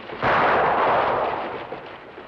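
A single gunshot in the samurai film Seven Samurai, a sharp loud crack that rings out with a long decaying echo, with no voices over it.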